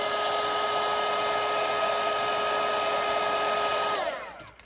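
A hair dryer blows steadily on wet watercolour paint of a red Christmas stocking design, a loud, constant whine with no talking, then cuts off abruptly near the end.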